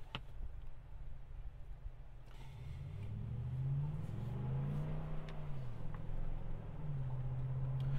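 A 2012 Ford F150 Raptor pickup drives on the road, its engine humming low and then revving up in rising and falling pitch, close and steady, with no voices.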